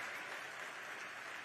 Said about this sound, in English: And give your governor a round of applause.